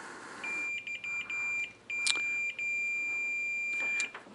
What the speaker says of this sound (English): if it beeps, of course you got a good fuse